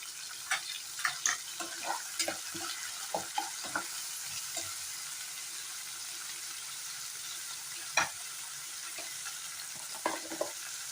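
Onions and green chilies frying in a pan, a soft, steady sizzle with irregular scraping and tapping as a spoon stirs them, faint and close, no speech.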